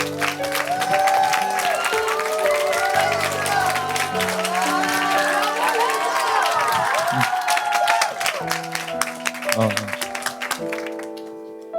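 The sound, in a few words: church youth audience applauding to welcome a speaker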